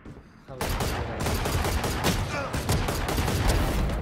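Rapid gunfire in Valorant, a first-person shooter, dense bursts of shots firing continuously for several seconds after a brief quiet start, loud and close.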